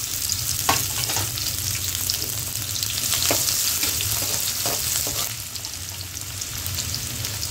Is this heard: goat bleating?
no